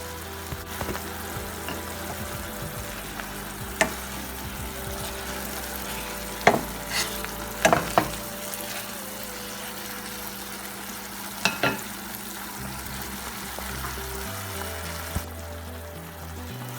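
Thai fried rice being stir-fried in a pan with soy sauce and sugar, a steady low sizzle broken by several sharp spatula knocks and scrapes, close and alone.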